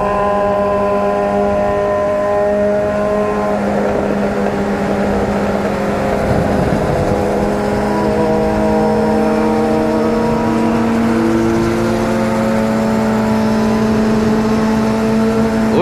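Motorcycles, including a Yamaha XT660 and a Kawasaki Z750, rev nearby with loud, sustained engine whine whose pitch rises and falls in overlapping sweeps, continuous for the whole stretch.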